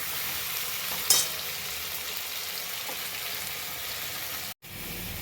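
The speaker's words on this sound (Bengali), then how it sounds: "এবার এটা আমি ভালো করে লাল লাল করে ভেজে নেব।" Taro and potatoes fry in hot oil with tempering spices until browned, giving a steady close sizzle with one brief clatter near the start and a short break near the end, no voices.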